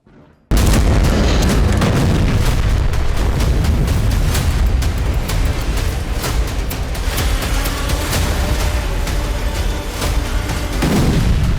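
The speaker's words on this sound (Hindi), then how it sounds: "लेटेस्ट हमले में हिजबुल्लाह ने इजराइल के कम्युनिकेशन टावर को उड़ा दिया है" Loud, continuous booming and rumbling of explosions from an attack on a communication tower, dense blasts filling the whole stretch after a sudden start.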